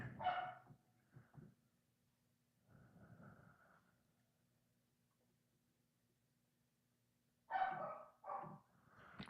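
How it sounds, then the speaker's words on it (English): A pet dog barks indoors in the background, a couple of short bursts at the start and again near the end, faint and separated by a long quiet stretch. "Do y'all hear my dog barking in the background?"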